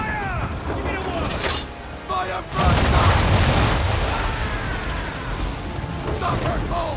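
Ship cannons firing in Assassin's Creed: a loud booming broadside erupts mid-clip with rumbling aftermath, amid creaking mechanical noise and shouted crew voices before and after.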